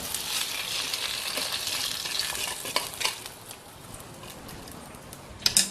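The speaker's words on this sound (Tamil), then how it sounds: "இந்த கோவக்காயை எடுத்து அதில் போட்டுக்கலாங்க" Ivy gourd pieces tumble into a pan of boiling gravy, making a continuous soft bubbling sizzle with scattered stirring clinks and a couple of sharper knocks near the end.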